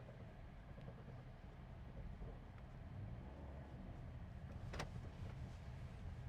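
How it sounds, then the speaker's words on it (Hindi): A 2024 Suzuki Swift drives in fourth gear, a steady low rumble of engine and road noise from inside the cabin with one brief sharp sound near the end. "ये गाड़ी अब फोर्थ गियर में है।"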